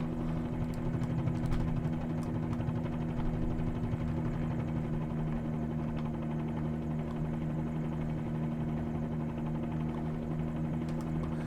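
A Bell 47G helicopter engine and rotor drone steadily in Microsoft Flight Simulator, a loud, constant low hum with a faint rhythmic rotor beat that persists evenly without talk.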